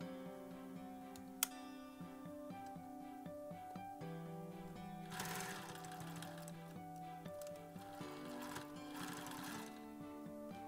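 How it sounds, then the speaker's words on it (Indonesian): A sewing machine stitches the edge of a batik cloth mask, a steady fast mechanical whir and rattle with a few sharp ticks, close and continuous. "kemudian ujungnya kita jahit"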